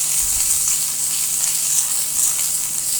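Onions, green chilies, garlic and dried chilies fry in hot oil, giving a steady, close sizzle with a bright, hissing crackle that holds evenly throughout with no talking.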